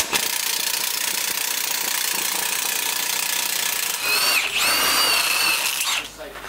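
A Milwaukee impact driver fitted with a large fence-post drill bit, running with a steady loud whir that rises into a strained, changing pitch before stopping, close up.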